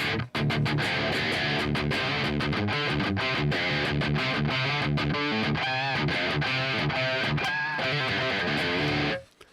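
Clean, quiet electric guitar with a single-coil pickup plays a rhythmic, chopped pattern of chords and single notes, with brief pauses, ending abruptly.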